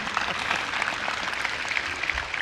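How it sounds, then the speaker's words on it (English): A crowd applauds at a 2020 East View High School graduation ceremony, with steady, dense clapping that holds at an even level throughout. "Please give him applause."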